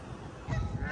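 Canada geese honk at a park pond in the US, a steady clamor of calls that grows louder and denser midway through, with no talking.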